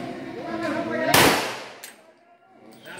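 A .40 caliber pistol firing a 186 grain minor load gives one sharp, loud crack with a quick decay, followed by a fainter pop under a steady background hum.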